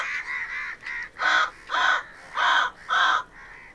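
A mimicry artist imitates crow cawing by voice, giving a run of about eight close, loud caws, the last four longer and evenly spaced, with no other talk.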